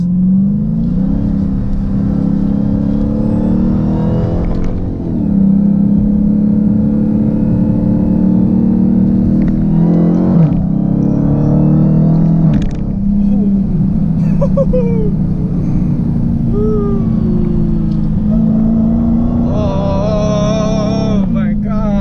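Supercharged 2016 Dodge Challenger Hellcat accelerating hard: a loud, close engine roar climbing in pitch through several gear changes, each shift marked by a brief dip before the rumble builds again, with some talking over it.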